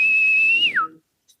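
A person whistles in imitation of a ship's boarding call: one loud, steady, high note held for over half a second, then sliding downward and cutting off, followed by silence.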